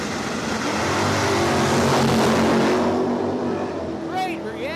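Drag racing cars at Cordova Dragway launch down the quarter-mile strip in a loud, sustained engine roar that swells and then fades away, with a voice speaking over it near the end.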